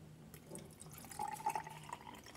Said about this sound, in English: Pour the purple mix into the test tube.